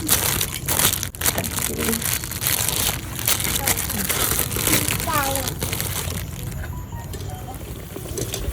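Potato chops sizzle and crackle in hot oil, a dense frying hiss throughout, with someone talking in Bengali over it.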